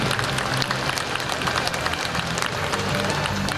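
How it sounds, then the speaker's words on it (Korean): A crowd applauds and cheers at the opening ceremony of a disability organizations' festival in Bucheon, honoring award recipients; dense, steady clapping fills the hall without a break. "모두 모두에게 축하의 함성과 박수 함께 보내주십니다"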